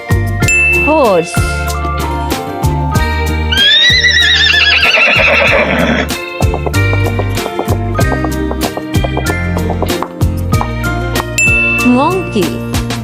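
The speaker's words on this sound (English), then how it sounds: "Horse." A horse neighs with a rising then falling whinny in the middle, surrounded by a busy children's music track with jingles and chimes, loud throughout.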